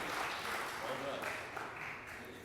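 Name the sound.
applause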